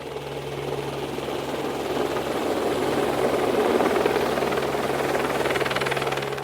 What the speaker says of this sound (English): the helicopter is coming now